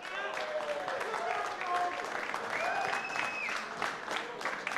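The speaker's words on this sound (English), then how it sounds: "Come on, give a round of applause." An audience applauds steadily for a few seconds at a gaming tournament, with whoops and cheers rising over the clapping.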